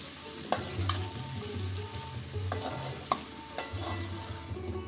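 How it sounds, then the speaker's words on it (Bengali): Coconut rice is stirred in a simmering pan, a gentle sizzle under repeated spatula scrapes and knocks against the metal at an unhurried pace, close and moderately quiet. "এবার এটাকে সিমে করে আস্তে আস্তে মিশিয়ে নেব"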